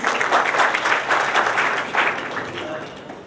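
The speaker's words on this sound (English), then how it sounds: "Huge round of applause for him, please." Audience applause at the K & K Social Foundation awards night, a steady wash of many hands clapping that holds for several seconds and eases slightly toward the end, with faint voices underneath.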